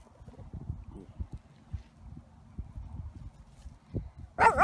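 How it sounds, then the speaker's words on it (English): Horses walking in a field give soft, irregular hoof clip-clops nearby on soft ground, with a brief louder burst of sound at the very end. "Look at those pretty horses."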